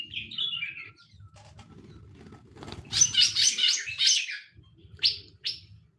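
Small birds in an aviary chirp and tweet in quick, bright bursts at close range, with a dense flurry of calls in the middle and softer rustling and faint background noise between them.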